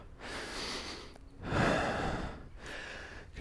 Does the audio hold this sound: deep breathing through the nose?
yes